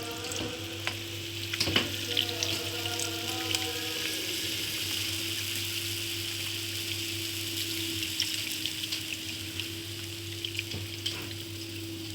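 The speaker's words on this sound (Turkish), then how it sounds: "Şimdi şerbetini döküyorum." Cooled syrup poured over freshly baked şekerpare gives a soft, steady sizzling and trickling hiss, close by, with a few sharper drips and clicks early on and a constant low hum underneath.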